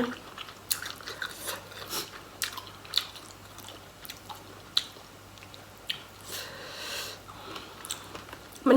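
A big mouthful of spicy Thai cucumber salad being chewed close to the microphone: wet, crunchy bites and squishy mastication repeat irregularly over several seconds, with brief pauses between the louder crunches.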